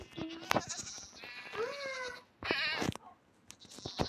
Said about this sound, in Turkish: Dur keçi koyalım buraya